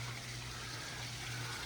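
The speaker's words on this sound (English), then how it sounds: "you can probably hear the waterfall in the background" Backyard waterfall at a house in Fremont, California, giving a steady, even rush of falling water throughout, moderately loud and close, with a faint low hum beneath.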